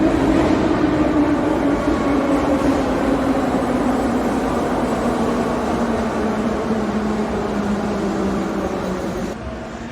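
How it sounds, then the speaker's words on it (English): A Tashkent metro train pulls into the station with a loud, steady rumble and a humming, whining tone that hold for several seconds before easing off at the end. No one speaks. "to get a quick shot of the train arriving"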